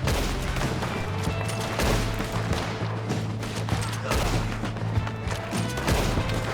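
Dense gunfire in the Red Dead Redemption 2 video game, with rapid repeated shots and bursts close and loud over continuous game ambience.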